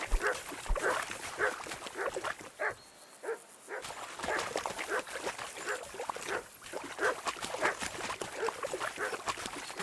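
A dog barks again and again in the medieval game Kingdom Come Deliverance II, a steady run of sharp yaps over a continuous outdoor background.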